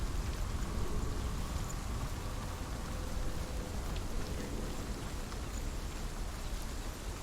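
Steady rainfall in the video game Hellblade: Senua's Sacrifice, a soft, even hiss of drops that holds at a constant low level with no voices.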